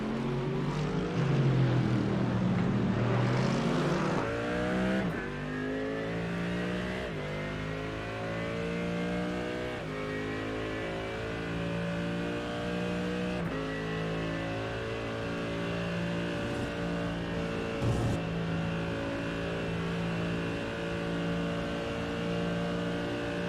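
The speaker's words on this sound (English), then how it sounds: "Brett Crouch there in the fourth spot, trying to reel in the Mercedes" Race cars in a sportscar series at Spa, a Mercedes among them, roar past with strongly harmonic engine tones that rise and fall through gear changes, loud and continuous with no talk.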